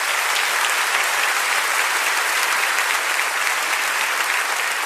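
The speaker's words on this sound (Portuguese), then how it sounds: "Você pode aplaudir ao Senhor." A church congregation applauds together, a dense, steady wash of many hands clapping at full volume that carries through the whole stretch without letting up.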